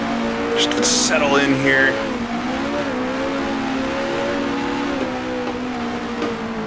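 A 1966 racing car in Grand Prix Legends, at Warwick Farm in the Tasman Series, drones loudly with a steady engine note that drops in pitch as it downshifts, with someone talking over it.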